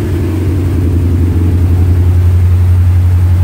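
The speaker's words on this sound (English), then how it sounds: "This is the first time it's been started. The first time with EFI." A 1971 Opel Kadett engine, newly converted to EFI and running rich, runs steadily on its first start, a loud, close, continuous low rumble with an even pulsing throb.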